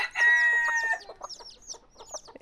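A hen gives a loud, drawn-out squawk at close range, then a string of shorter clucks.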